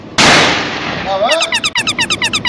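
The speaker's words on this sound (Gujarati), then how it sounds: "ફટાકડો ફોડે લે હાલો ફૂટી જાય નહીં સાંભળો ને અવાજ થાય" A firecracker bursts with a single sharp, loud bang that rings and decays, followed by a quick series of rhythmic, tonal voice-like chirps close by.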